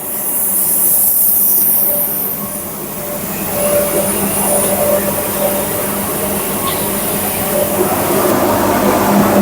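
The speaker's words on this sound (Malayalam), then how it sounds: "ഇപ്പോൾ സ്റ്റീം എഞ്ചിനാണ് വണ്ടി പോകാൻ പോകുന്നത്" Mettupalayam–Ooty toy train steam engine rumbling steadily close by, a continuous low mechanical drone with faint clanks and hiss, no talk.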